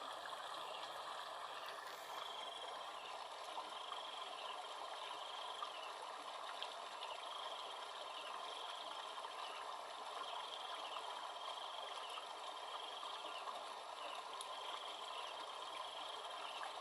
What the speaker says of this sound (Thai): โอ้น้ำไหลครับท่านผู้ชมครับ